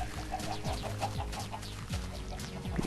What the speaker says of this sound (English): these chickens are pretty much in position for what I'm about to do